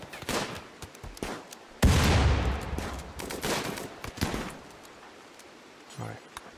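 Colonists trade gunfire during a firefight in the colony-building game RimWorld, with sharp overlapping shots in bursts and a heavier blast near the two-second mark, then fading to scattered pops.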